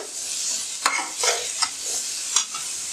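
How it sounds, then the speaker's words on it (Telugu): Onions sizzle in a hot pan for aloo matar pulao, a steady close frying hiss broken by several scraping strokes of a spoon. "ఉల్లిపాయ ఒక 2 నిమిషాలు మనకి కలర్ రంగు మారే వరకు మనం దీన్ని వేయించుకోవాలి"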